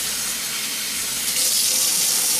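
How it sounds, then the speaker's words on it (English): Hot water runs from a tap into a kitchen sink as a steady, hissing rush that grows slightly louder and fuller midway as the sink fills. "I'm simply just gonna fill my sink up with hot water"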